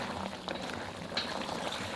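Sauce with cornstarch slurry boils in a pot, giving a soft, steady bubbling and light sizzle with a few small pops, fairly quiet and without talk.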